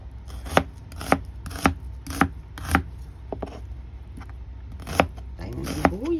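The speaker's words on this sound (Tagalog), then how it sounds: "Hiwain natin. Ito ang ating sibuyas." An onion chopped with a knife on a board for an eggplant salad, about ten sharp, evenly spaced thuds close by, and a voice speaking briefly near the end.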